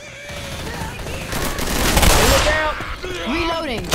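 Gunfire in Left 4 Dead 2, a sustained rattle of automatic shots building to a loud peak mid-clip, close and continuous, with game sound effects and tonal chirps mixed in toward the end.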